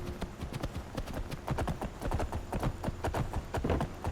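Horse hooves clip-clop at a steady, quick gait in the video game Skyrim, the rapid hoofbeats close and continuous over soft ambient background.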